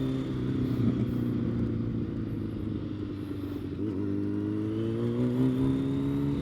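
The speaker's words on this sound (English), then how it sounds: "First wheelie of the day, man." A motorcycle engine revs steadily and climbs in pitch as the rider pulls a wheelie, loud and close, with no talk over it.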